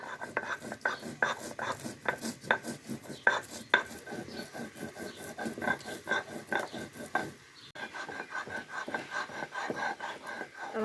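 Small fried shrimp are ground together with spice paste, making rhythmic, repeated scraping and knocking strokes at close range, steady back-and-forth with a brief pause midway.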